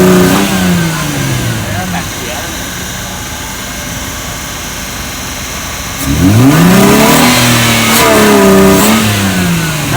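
An old Volvo 244 DL engine runs loud and close, its pitch sagging and then rising unevenly as it sputters and revs, while people talk over it.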